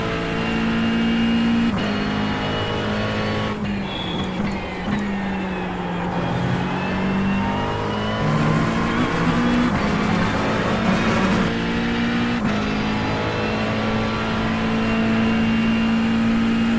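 Race car lapping the Red Bull Ring circuit, its engine note rising and falling continuously as it brakes and accelerates, loud and steady throughout with no talk.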